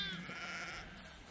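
Sheep bleat at a Romanian sheepfold by a forest, where Kangal and Romanian shepherd dogs are kept. One sustained, fairly loud bleat is heard on its own.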